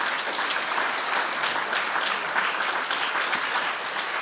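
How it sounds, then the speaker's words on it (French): A church congregation applauds steadily and densely, a continuous wash of many hands clapping throughout with no voices rising above it. "Applaudissons Jésus."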